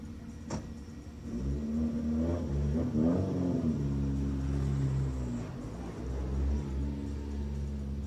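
A historic Porsche competition car idles low and rumbling at the start podium of the 2019 Rallye Vins Mâcon, blipping the throttle in a few brief revs, close and steady in the open air.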